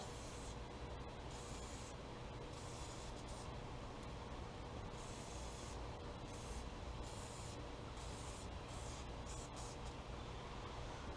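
Penetrating lubricant sprayed in steady bursts onto the head studs of a Willys Jeep L134 engine, a continuous hiss with short breaks, close by and fairly quiet.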